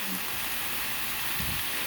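Steady broadband hiss of vegetables sizzling in a hot pan, continuous and fairly close, with faint low clatter underneath.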